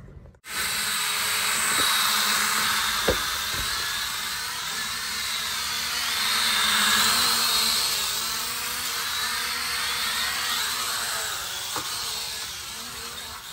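A small drone flies steadily with a whining, hissing rotor drone that swells and eases in loudness, heard alone and close throughout.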